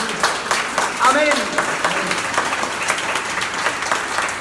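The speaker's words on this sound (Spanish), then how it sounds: "Démosle ese aplauso a Jesús" Church congregation applauding during a sermon, a dense wash of clapping that rises and fades over a few seconds, with voices and a brief shout mixed in beneath it.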